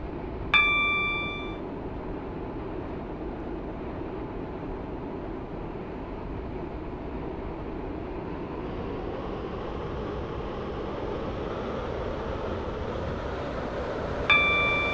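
A Roblox train on a Waterline service rolls along with a steady, droning rumble, opened and closed by a bright multi-tone chime near the start and again at the very end.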